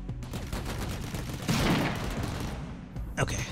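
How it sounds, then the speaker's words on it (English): Artillery barrage and gunfire in the video game Rimworld, a steady dense rumble of distant booms and shots with a louder swell midway and a sharp burst near the end. "So barrages are going about."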